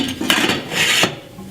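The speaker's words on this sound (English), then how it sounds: "you can replace the lid" The lid of a drip coffee maker is set back in place with a short plastic clatter and scrape, close and fairly loud, followed by a faint settling sound.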